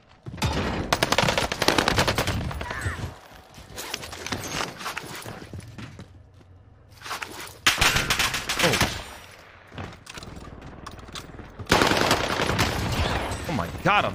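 SMG bursts in Call of Duty Warzone (Vanguard era), with rapid full-auto strings that come close and loud in several separate volleys, quieter gaps with footsteps between them, and a player talking at times.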